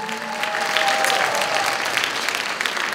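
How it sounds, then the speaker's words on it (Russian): Steady applause from a festival audience at a televised Hollywood-themed concert in Los Angeles, dense and sustained for the whole stretch, loud and close with no talk over it. "Давайте поаплодируем ей ваши аплодисменты."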